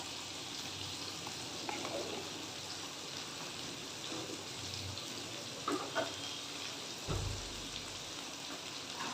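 Ginger paste fried with garlic paste in a pan, giving a soft, steady sizzle like light rain, with a few faint stirring scrapes and knocks, all low and close.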